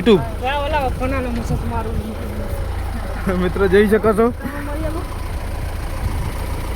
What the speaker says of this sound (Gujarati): આ જાય છે ટ્રેક્ટર